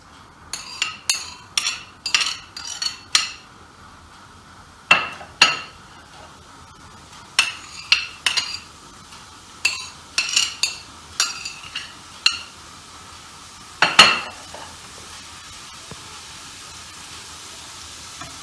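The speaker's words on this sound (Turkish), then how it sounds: "Pırasa ve havuçları suyunu çekene kadar kavuracağız." Leeks and carrots being sautéed in a pan, with a series of light metallic clinks and scrapes from stirring at irregular intervals over a soft background hiss, no talk.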